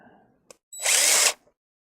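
A handheld power drill whines at high speed for about half a second after a small click, loud and close, then stops abruptly.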